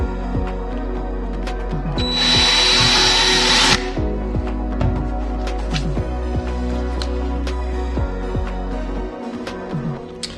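A power drill bores a hole into a wooden newel post, whirring loudly and close for under two seconds, surrounded by steady low background hum and scattered knocks and handling sounds.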